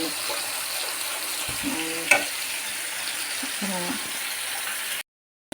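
Spices sizzle and fry in hot oil in a pan, a steady close crackling hiss that runs for several seconds with brief stirring knocks, then cuts to silence near the end.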